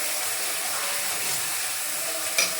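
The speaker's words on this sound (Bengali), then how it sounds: "এবার ভালো করে মশলাটাকে কষিয়ে নেব।" Spice paste with chili powder, Kashmiri chili powder and salt sautés in a pan, giving a steady, close, broadband sizzle that ends in a brief stirring clatter.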